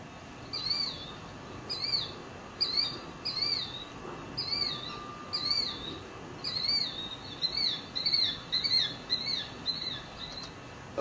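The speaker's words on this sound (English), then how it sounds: "Killdeer." Killdeer calls in a repeated series of sharp, high, slurred notes, given singly and in quick pairs with short gaps, clear and fairly close over a faint low background hiss.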